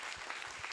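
Brief burst of scattered clapping from supporters at a Tokyo gubernatorial election candidate's appearance, fairly faint and distant, with indistinct voices and shouts mixed in.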